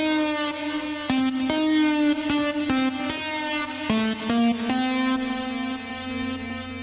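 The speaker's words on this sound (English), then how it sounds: "So I just kind of have this simple synth lead melody." A simple synth lead melody from a dubstep track made in Ableton, bright buzzy sustained notes stepping through a slow tune, washed in heavy reverb and delay and playing alone without talk.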